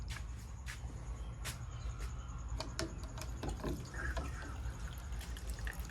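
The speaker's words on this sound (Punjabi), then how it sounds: "ਚਾਰਾਂ ਟੈਂਕੀਆਂ 'ਚ ਪਾਣੀ ਆਉਣਾ ਹੋ ਗਿਆ ਸਟਾਰਟ" Water running through pipes into farm tanks after pipe cleaning with hydrogen peroxide, a faint steady trickle with scattered drips and ticking splashes throughout, no voices.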